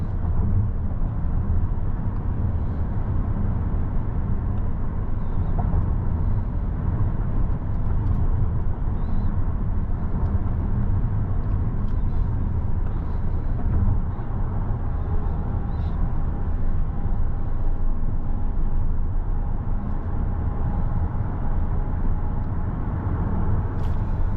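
A 2022 Kia Sorento SX with a turbocharged 4-cylinder drives along, giving a steady, even cabin drone of engine and road noise heard from inside without letup.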